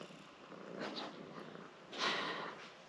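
Bella, a young kitten, purrs up close with a soft rhythmic rumble that swells and fades with each breath, growing louder near the end.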